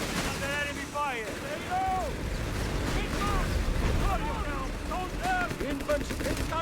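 Battlefield gunfire in Company of Heroes 3: a continuous mix of rifle and machine-gun bursts with distant explosions, under soldiers' radio chatter and shouted voice lines.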